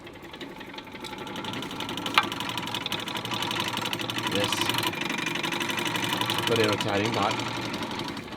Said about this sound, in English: So that noise you're hearing is the washing machine in spin mode.